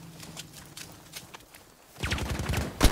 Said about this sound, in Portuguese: Mas que belo tiro!